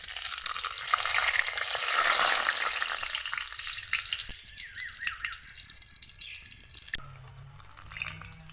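Cloves, cinnamon, cardamom, bay leaf, dry red chilli, whole cumin and mace fry in hot oil with a loud, close hissing sizzle that gradually settles into quieter bubbling and crackles.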